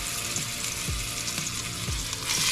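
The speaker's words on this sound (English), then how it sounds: "We want to hear the sear." Fat-side-down beef for birria sears in a Dutch oven with a loud, constant sizzle and crackle, a few soft spoon taps or scrapes recurring under the frying.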